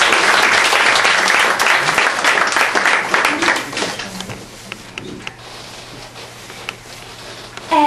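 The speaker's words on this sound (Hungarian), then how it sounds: "Egy bátorító tapsot szeretnénk kérni," Loud audience applause at a live Hungarian children's songs and stories performance, dense clapping filling the first half and thinning out toward the end.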